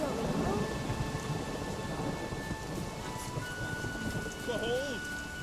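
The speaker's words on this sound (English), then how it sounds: "Raining fucking buckets." Heavy rain pours steadily in The Witcher 3 with low thunder rumbling underneath, a dense continuous wash of sound while a voice speaks softly over it.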